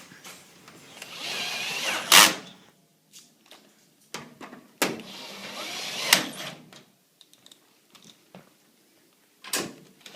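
Screws being driven into the top of a Kenmore HE3t front-load washer, heard as several short bursts of a power screwdriver with clunks and handling knocks between them, close by and fairly loud.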